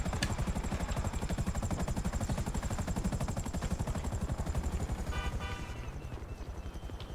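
A helicopter flies in GTA Online during Terrorbyte jobs, its rotor chopping in a fast, steady, loud pulse that holds throughout and eases slightly toward the end, with no talking.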